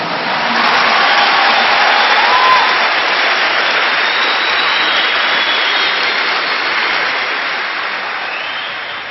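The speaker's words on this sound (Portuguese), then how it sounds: "Agora o maior aplauso para o Senhor." Church congregation applauding loudly during a sermon, a thick sustained roar of clapping that fills the space at high volume, then slowly tapers.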